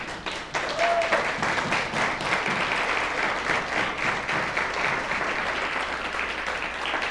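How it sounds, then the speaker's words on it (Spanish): Steady, enthusiastic applause from a crowd, a dense wash of clapping that holds at an even level throughout. "Yo le daré un aplauso al Señor"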